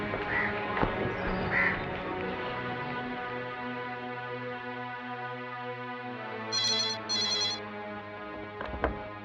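A telephone rings in two short electronic bursts over a sustained musical score during a tense drama scene, fairly clear but brief.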